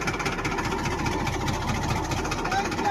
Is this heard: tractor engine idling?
yes